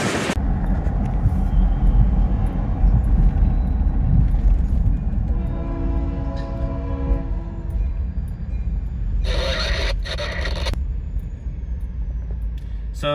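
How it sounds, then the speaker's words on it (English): A Florida East Coast Railway GP40-2 diesel locomotive on a switching job rumbles steadily close by, with a sustained horn blast in the middle and a later burst of hissing, clanking noise over the engine drone. "So the train is currently entering the central industrial section."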